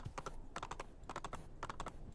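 Horse hooves clatter in quick galloping clusters in Assassin's Creed II, a steady repeating clip-clop rhythm, fairly faint and close, with no talking.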